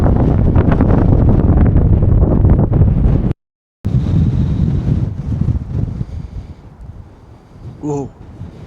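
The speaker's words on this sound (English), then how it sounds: "it's really windy now." Strong wind buffets the microphone on a mountain summit near Giant's Bite, roaring loud and steady at first, cutting out briefly, then gusting more unevenly beneath a faint voice.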